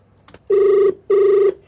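An outgoing phone call rings on a radio prank-call segment: two long, loud ringback tones separated by a short pause, heard alone after a faint brief click.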